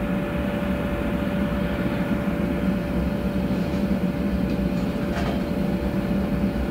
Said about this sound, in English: This is the small blower